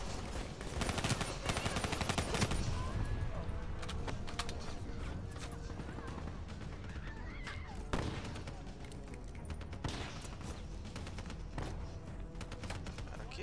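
Rapid submachine-gun fire from a CUDA SMG in the Black Ops 3 campaign, a dense run of shots heard across the whole stretch amid steady game noise, with no voices over it.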